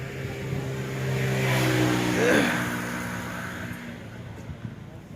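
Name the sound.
1974 Massey Ferguson 135 tractor engine running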